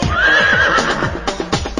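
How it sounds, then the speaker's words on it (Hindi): A running horse gives a loud, close whinny with a wavering high pitch, followed by clip-clopping hoofbeats in a quick rhythm. "हिन हिन करता घोड़ा भागे"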